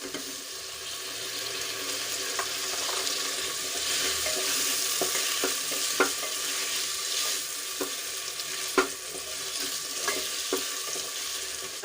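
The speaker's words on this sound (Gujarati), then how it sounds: "આદુ અને લસણ સરસ રીતે સંતળાઈ ગયું છે તો એમાં ટમેટા ઉમેરી દઈશું" Tomatoes sizzle softly in a pressure cooker with sautéed ginger and garlic, a steady frying hiss with occasional stirring clicks from a spoon, close and moderate, no talk.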